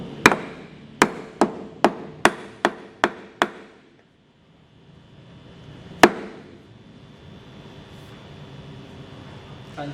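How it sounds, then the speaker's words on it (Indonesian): A plastic mallet strikes a workpiece clamped in a conventional milling machine vise, about eight sharp evenly spaced knocks, then a pause and one final loud hit, close and clear. "kita bisa menggunakan palu plastik dan memukul material"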